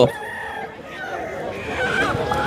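A rooster crows with a drawn-out, wavering call at a poultry market in Tongi, with clucking fowl nearby and faint background chatter.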